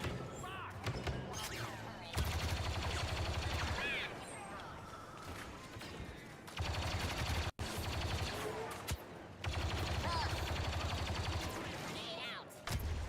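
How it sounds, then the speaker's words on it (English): Rapid repeated weapon fire from a gun in the Star Trek Online game, bursts of sharp shots in several stretches with short gaps, loud and dense under a streamer talking. "I don't know what gun I'm using right now. I don't think it's the one I want to be using. It doesn't sound like the gun I normally like to use."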